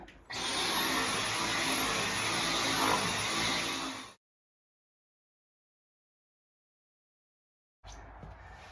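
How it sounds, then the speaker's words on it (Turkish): A vacuum cleaner cleans the living-room sofas, a loud steady whine with a high thin tone that runs for about four seconds, cuts out to silence, then starts again briefly at the end. "süpürgeyi aldı şimdi. Oturma odasının koltuklarından başladı"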